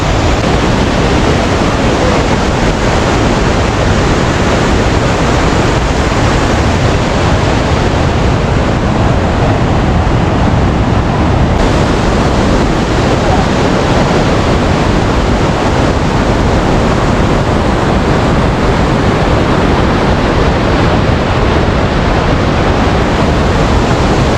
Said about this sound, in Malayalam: ഈ പൈക്കര വാട്ടർഫാളിൽ ശരി നിലവിൽ ഇപ്പോൾ വെള്ളം കുറവായതുകൊണ്ടാണ് കേട്ടോ